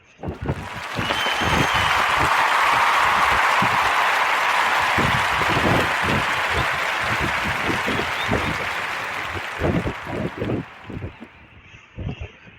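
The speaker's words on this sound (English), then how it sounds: "So clap it up for Undisputed." A steady wash of applause rises quickly, holds for several seconds, then thins toward the end, with a talking voice breaking in over the fading claps.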